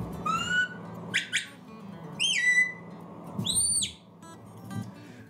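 A series of sharp shepherd's whistle blasts, some rising and some swooping down, with short gaps between them, close and clear, no talking.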